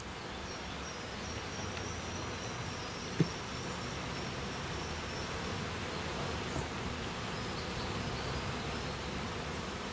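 Honey bees hum faintly and steadily around hive frames as a beekeeper works the brood chambers. The low, even buzz is set in soft, hissy background noise and has one small tap partway through.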